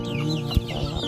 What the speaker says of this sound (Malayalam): ഇതാണ് നമ്മളെ കോഴിക്കുട്ടികള്